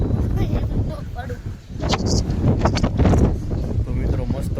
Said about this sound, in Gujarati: જો મિત્રો આમ જો પવન છે ને ફૂલ પવન ચાલુ થઈ ગયો છે.